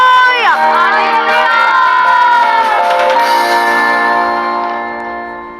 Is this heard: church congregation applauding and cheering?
yes